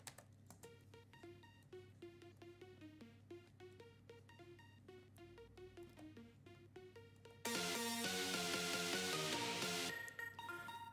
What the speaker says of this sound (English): this is the plug melody and the saw melody